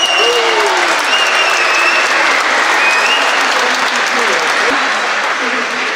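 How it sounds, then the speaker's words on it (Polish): Warm audience applause at a GKM Grudziądz speedway team presentation, dense, loud and continuous for the whole stretch, with a voice faintly audible beneath it. "Gorące brawa."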